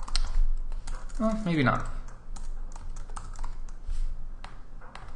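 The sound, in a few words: typing on a computer keyboard in TextMate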